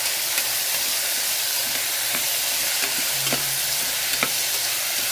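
Vegetables and green chillies fry in a pan for brown rice pulao, giving a steady, close sizzle with occasional light clicks and taps of stirring throughout, and no voices.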